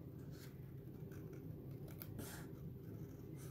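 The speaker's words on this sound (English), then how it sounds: "I'm going to grab some paper snips." Paper snips loosely cutting around stamped paper flowers, a close, steady run of small snipping and rustling sounds over a low background hum, with no talking.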